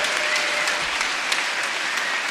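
Steady, dense applause from a large crowd at the Marxism 2013 opening rally, an even wash of clapping that continues without pause.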